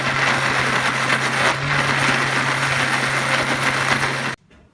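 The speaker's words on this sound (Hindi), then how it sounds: "कवर करने के बाद अब हम इसे ग्राइंड करेंगे।" A kitchen mixer grinder churns raw mango chutney in a steady, loud, dense whir lasting several seconds, then cuts off abruptly near the end.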